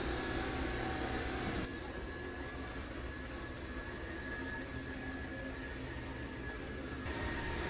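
A Dreame X40 Ultra robot vacuum mops and scrubs a floor with a steady, close whirring hum. The hum eases slightly after the first couple of seconds and swells again near the end.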